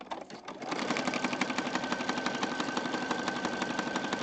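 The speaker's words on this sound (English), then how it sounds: "I'm just going to stitch around this in a zigzag fashion." A sewing machine runs steadily in a zigzag stitch around fragile junk journal paper, a fast, even rhythmic clatter starting after a brief pause and continuing close and loud.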